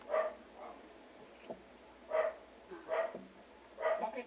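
A small dog being groomed at home barks in short, fairly soft bursts at irregular intervals, with quiet gaps between the yips.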